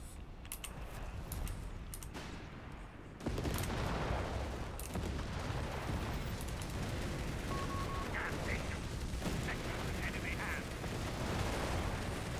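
Mortar fire in the World War II strategy game Company of Heroes 3, a dense rumble of distant explosions and gunfire running continuously under battle noise, louder and heavier after a sharp thud partway through.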